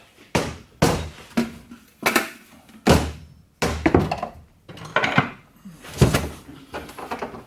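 Repeated heavy knocks of a hammer driving a metal ring down a pipe, about a dozen blows in an uneven rhythm, loud and close.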